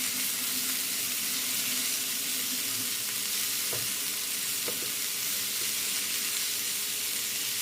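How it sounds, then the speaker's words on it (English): Stir-fry mix frying with caramelized onions in a pan, a steady loud sizzle and hiss with a few faint stirring scrapes, no voices. "Let them fry and cook with the onions before we start adding our seasoning."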